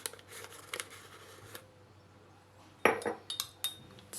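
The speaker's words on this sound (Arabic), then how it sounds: "صافي هنا غنخلطو مزيان باش ما يتحببش ليا" A spoon stirs vinegar and a heaped spoonful of starch in a bowl, soft scraping at first, then a sharp clink and several quick metallic taps against the rim, quiet and close, with no talking.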